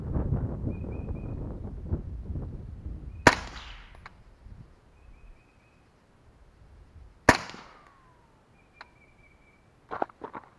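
Two sharp subsonic .223 rifle shots fired at a 50-yard range, spaced about four seconds apart, each a loud crack with a short decaying tail, followed by a fainter metallic click or impact near the end; wind rumble underneath at the start.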